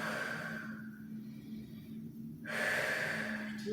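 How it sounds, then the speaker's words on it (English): Slow, audible breathing during an acro yoga session at home, with a long inhale-like rush, a quiet pause, then another breath, all fairly close over a steady low hum. "Deep breaths in and out."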